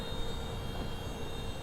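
A Hi-Speed SR 100 motorcycle, 2026 model, runs in fourth gear with a steady, close engine drone and a constant high whine, no voices over it.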